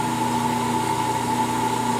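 A 1.5 horsepower single-phase 115/230 volt electric motor running steadily, a loud constant hum with strong tonal whine, no talking.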